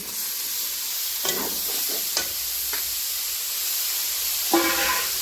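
Mushroom pieces sizzle in a hot pan with spiced oil under a constant hiss, with several sharp scraping stirs and a louder burst of frying near the end.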